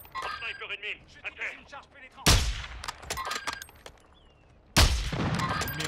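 Two sharp, loud sniper rifle shots ring out with long decaying tails in a shooter video game, landing a couple of seconds apart over game sounds and someone talking in the background.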